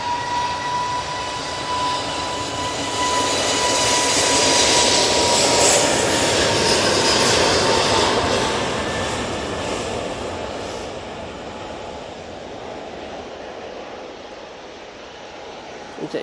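An Airbus A321neo taking off at Manchester bound for Istanbul, a distant jet roar swelling to a broad, loud rumble midway and then slowly fading, with a faint steady whine throughout.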